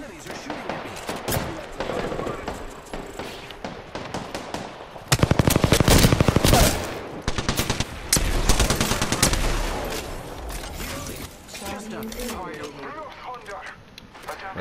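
Enemy gunfire in Apex Legends, bursts of rapid automatic shots, loud and close, with a dense barrage in the middle, mixed with a voice talking over the fight.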